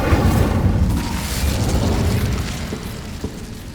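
The Incendio fire spell bursts in Hogwarts Legacy, a loud booming whoosh of flame that rumbles and fades over a few seconds, with a small thud near the end.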